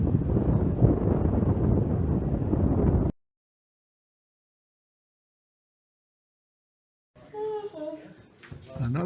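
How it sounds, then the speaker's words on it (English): Strong, steady wind on a submarine's deck buffets a microphone with a low roar, cutting out abruptly, then a voice speaking after a gap of silence. "It's pretty windy up here"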